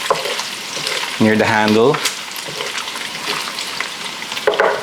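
Bacon shifted to one side of a hot frying pan after cooking, with the heat switched off, gives a steady sizzle and faint scraping under a speaking voice, with a louder tonal clatter midway.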